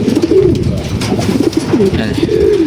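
Racing pigeons coo repeatedly in low, rolling calls, close by, with a continuous murmur of other birds and background noise.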